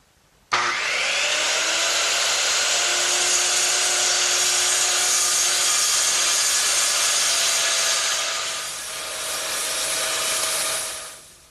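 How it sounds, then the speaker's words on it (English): A circular saw whines loudly and steadily through hardboard laid over a workbench frame, a sustained close cut of about ten seconds that eases slightly near the end before spinning down. "I'm going to use my circular saw to take out that material"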